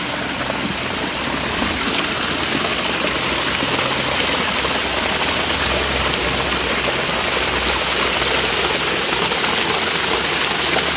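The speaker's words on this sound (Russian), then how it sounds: "Вот такой маленький водопадик." A small waterfall in a gorge in Germany's Harz mountains pours in a steady, dense rushing roar, close and constant with no voices over it.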